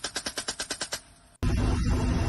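A machine gun fed by a long ammo belt fires a rapid string of about ten evenly spaced, loud shots, followed by a short pause and then a burst of harsh, noisy sound.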